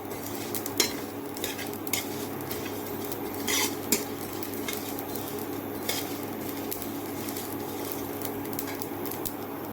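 Dry chillies, panch phoron and fennel are dry-roasting in a pan, stirred with a steady scraping and clinking of a utensil against metal over a faint sizzle.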